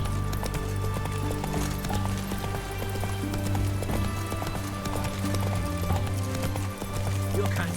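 Hooves of Roach, the horse in The Witcher 3: Wild Hunt, clip-clop at a steady trot throughout, in an even rhythm over a low background of game sound.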